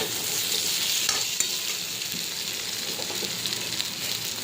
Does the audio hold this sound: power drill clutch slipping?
no